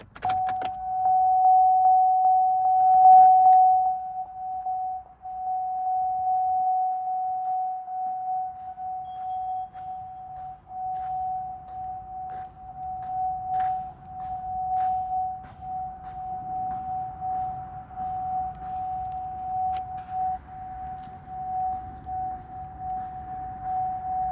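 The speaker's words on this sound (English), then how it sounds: "let's not forget about the ridiculously, unbelievably loud door chime" A loud, steady electronic car door chime sounds continuously, with faint clicks and rustling beneath it.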